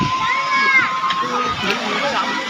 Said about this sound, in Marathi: लोक खूप ओरडा ऑर्डर करतात तिथं